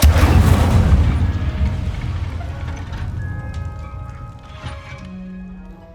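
An Incendio fire spell cast in the video game Hogwarts Legacy: a loud, deep whooshing burst that rumbles and slowly fades over several seconds, with faint clinks in the tail.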